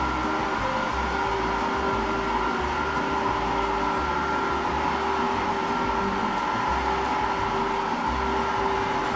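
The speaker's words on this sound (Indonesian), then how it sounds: "hair dryer yang dipakai jangan yang tekanannya tinggi" A small, low-pressure hair dryer runs steadily while drying a freshly bathed kitten, giving a constant close whirring hiss with a faint tonal hum and no breaks throughout.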